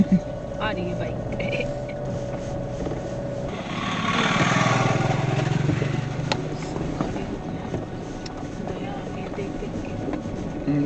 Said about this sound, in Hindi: आ रही है बाइक।